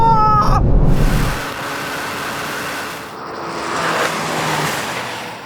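Manhart-tuned BMW M3 and M2 launching side by side in a drag race, a loud burst of engine roar at the start settling into a sustained high-revving drone as the cars pull away.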